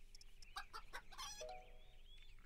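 Chickens clucking in the mobile puzzle game Puzzle Craft, a quick run of bright, choppy clucks and a short crow-like call, close and fairly faint over a soft game background.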